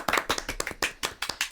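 A small group claps to cheer a successful SpaceX Dragon crewed launch into space, with uneven, overlapping hand claps in quick bursts, fairly close and alone without talk.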